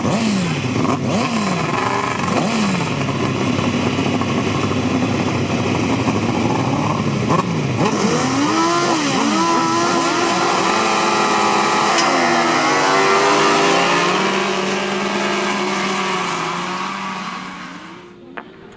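Grasstrack racing motorcycles at the 2006 Capel Classic meeting roar past close by, their engines rising and falling through gear changes in a continuous loud pack, fading slightly toward the end.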